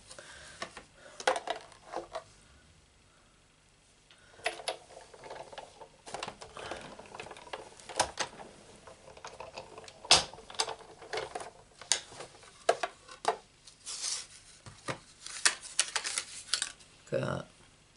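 Scissors snipping through cardstock while cutting out paper flower shapes for a Stampin' Up Beautiful Promenade craft project, giving irregular close crisp snips and rustles, with a quiet pause early on.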